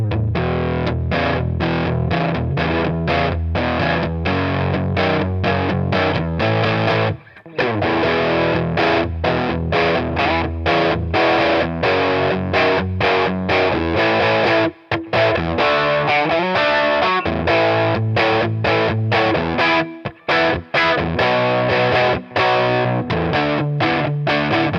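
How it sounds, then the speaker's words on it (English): Electric guitar played through an overdrive pedal driving a tube amplifier, a loud, continuous run of saturated chords and riffs with brief gaps, warm and dynamic breakup throughout, no voices. "helping those tubes to get cooking and pushing them into a lovely organic sounding, dynamic and responsive overdrive"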